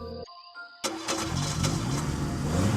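A car engine cranks and catches, then settles into a loud, close, rumbling idle that builds steadily, with no voices.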